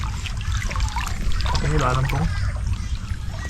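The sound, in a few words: strong river current flowing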